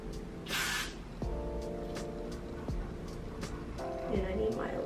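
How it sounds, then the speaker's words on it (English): Got To Be Free hair spray hissing in a short burst onto a lace closure near the start, followed by soft handling noises and clicks under a steady low hum, with no talk. "spray that in there."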